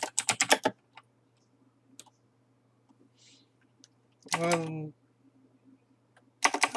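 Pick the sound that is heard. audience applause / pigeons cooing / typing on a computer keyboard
typing on a computer keyboard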